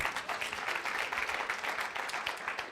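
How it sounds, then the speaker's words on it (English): Faint, even clapping from an audience at a penny-stock trading seminar, a soft continuous patter of many hands with no talk over it. "Afterwards, a round of applause."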